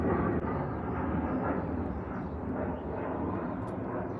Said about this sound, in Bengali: বারবার ওই ফাইটার প্লেনগুলো চলেই যাচ্ছে।